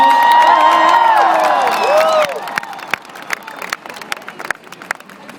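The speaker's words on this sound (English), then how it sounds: "Tom Barrett, please give him a big round of applause" Crowd cheering and whistling at an Obama rally in Madison, loud at first with shouting voices, then thinning into scattered claps and cheers as the noise fades.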